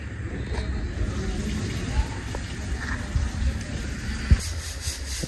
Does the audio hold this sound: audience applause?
no